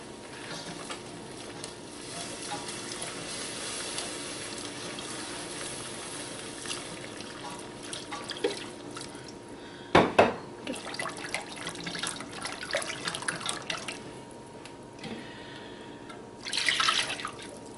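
About 2.5 cups of milk are poured into a cheesy turnip casserole mixture, giving a soft, steady liquid trickle with a few louder splashes and drips partway through.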